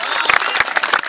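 Crowd clapping and cheering at a wrestling bout featuring Malik Sohaib (Sobi), a dense rolling burst of applause with a few sharper peaks, loud and close, with voices mixed into the noise.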